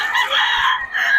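Chickens at a roadside market in Bocaue, Philippines, give a brief, loud, close call, a strained harmonic cluck or crow lasting about a second.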